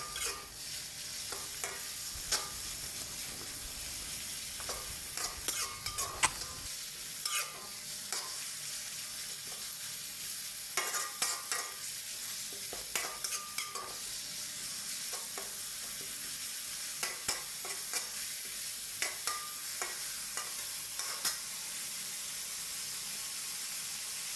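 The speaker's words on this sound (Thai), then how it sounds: "ผัดให้หมูสุกนะครับ พยายามบี้ๆให้หมู แยกตัวออกจากกัน" Minced pork stir-fried in a hot pan gives a continuous steady sizzle, with scattered clinks and scrapes of a spatula breaking up the meat, close and moderately loud.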